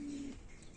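A single low, soft coo from a large pigeon in a town setting, brief and fairly close, over a dull background hum.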